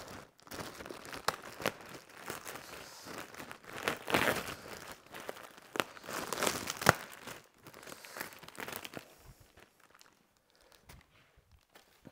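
Packaging around a new band saw blade is unwrapped by hand, with crinkling and rustling in bursts that build to a louder crackle midway, then trail off into quiet handling.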